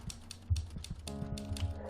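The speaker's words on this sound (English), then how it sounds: "He's typing away." A character taps away at a typewriter in the video game The Novelist, quiet irregular keystrokes in short clusters over a soft low hum, with faint musical tones entering partway through.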